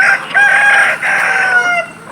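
A chicken calls out loudly and close by in a drawn-out, crowing cackle, with two long phrases and a short break between them.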